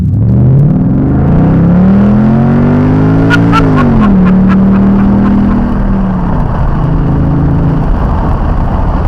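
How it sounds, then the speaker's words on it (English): A 2011 Ford Mustang GT revs hard in first gear, heard from the cabin with the windows down: a loud, rising engine roar that peaks, dips briefly, then settles into a steady high drone. "let's roll down the windows and get a little acceleration run real quick here"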